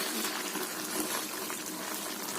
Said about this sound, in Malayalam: ഇനി അടുപ്പിൽ വെള്ളം ചേർക്കും